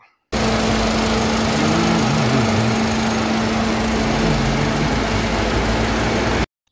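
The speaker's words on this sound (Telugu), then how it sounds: "ఇప్పుడు మీకు ఇంజిన్ సౌండ్ కూడా ఒకసారి వినిపిస్తాను" The engine of a used car runs steadily at idle with a constant hum and a rough mechanical drone. It starts abruptly, holds at an even level for about six seconds and then cuts off, with no talking.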